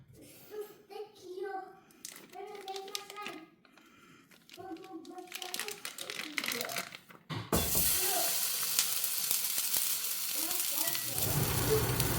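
Jimmy Dean sausage frying in oil in a home kitchen pan gives a loud, steady sizzle that takes over abruptly partway through, after a stretch of voices talking over the pan.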